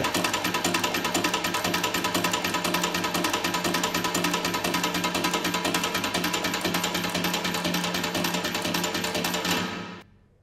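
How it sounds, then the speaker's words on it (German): Rapid, steady mechanical hammering from a standard impact-sound tapping machine on a balcony, loud and continuous, with a low hum underneath, stopping abruptly at the end. "Vorne auf dem Balkon, der große silberne Kasten, ist ein Norm Trittschallhammerwerk"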